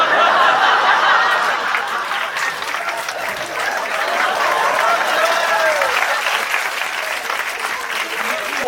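Comedy club audience applauding steadily as a vote, sustained and full with scattered chuckles and laughter mixed in, loud throughout.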